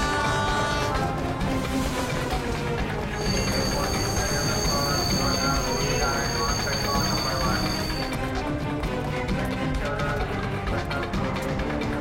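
A passenger train runs steadily along the rails with continuous rumble, wheel noise and a squeal in the middle section, heard loud and close from on or beside the train.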